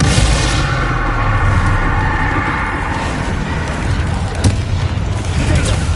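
A Bombarda spell blast in Hogwarts Legacy, a loud booming explosion with sustained rumbling debris and game effects, lasting several seconds alongside a voice.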